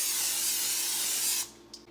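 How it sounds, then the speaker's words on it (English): A loud, steady hiss of cooking spray sprayed into a crock pot runs for over a second, then cuts off, followed by a faint short puff. "then I always spray it so nothing will stick"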